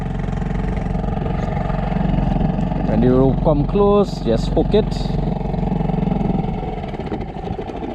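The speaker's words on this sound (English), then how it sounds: "Start the motor, drive forward." A small boat's outboard motor runs steadily throughout, pushing the boat forward in stormy weather near a small island, with someone talking over the engine drone.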